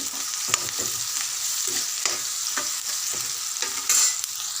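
Onions frying in a pan with a pinch of salt for chicken curry, a constant close sizzle broken by the scrape and clack of a spoon stirring every second or so.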